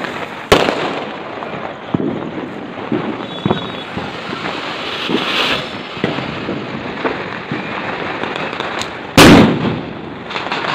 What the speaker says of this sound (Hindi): पूरी आतिशबाजी